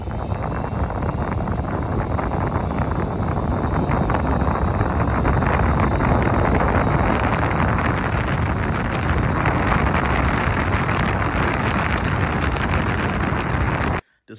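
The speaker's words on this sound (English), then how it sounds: "each level, it goes from just a quiet fan to almost a wind turbine." A powerful portable fan runs at a high level, giving a loud, steady broadband rush of wind that holds constant before cutting off abruptly at the end.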